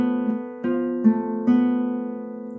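Guitar picking out the first part of a melody, single notes plucked one after another in an even, close rhythm with ringing sustain and no voices.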